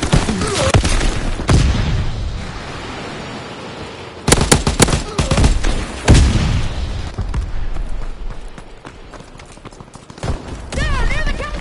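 Repeated bursts of automatic and single-shot gunfire crackle through a war video game battle, with heavy booms and rattling volleys spread across the whole stretch, loud and dense, while voices shout orders over the fighting.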